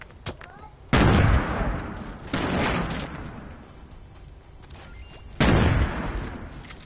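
Heavy gunfire in a solo video game shootout, with three loud bursts of shots and rapid fire that start suddenly and then tail off between them, heard alongside distant game ambience.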